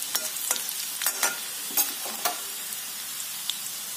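Garlic frying in oil in a pan for sarson ka saag, stirred with a spoon: a steady close sizzle broken by several sharp scraping strokes, with no voices.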